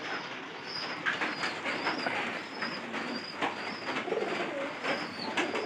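Pigeons kept indoors on a rainy day coo repeatedly in a soft, steady rhythm, several birds overlapping at close range.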